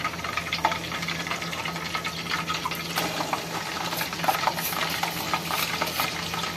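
Chopped onions hit hot cooking oil for an achari chana pulao, giving a steady, close crackling sizzle with scattered pops and stirring clatter, no voices.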